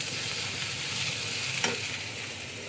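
Tomatoes and onions fry in a pan for a loitta fish bhuna, a steady close sizzle with a short scrape of stirring near the end, no voices.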